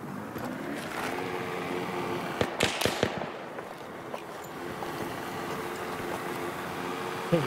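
Distant gunfire in Battlefield 3 on the Sharqi Peninsula map: a short cluster of sharp cracks and echoing pops midway, set against a steady rumble of wind and engine-like ambience.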